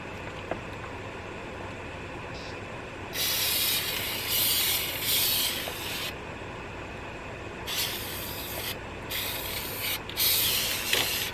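A faulty Rust-Oleum spray paint can hisses in several bursts of a few seconds each, with short pauses between them, over a steady low background hum.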